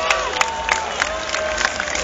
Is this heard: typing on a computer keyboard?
no